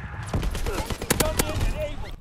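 Chatellerault light machine gun fire in Call of Duty WW2 comes in sharp, loud bursts and cracks, clustered mid-clip, with someone talking over and between the shots.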